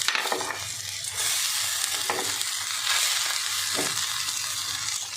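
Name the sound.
water spinach added to pan sizzling with fried potatoes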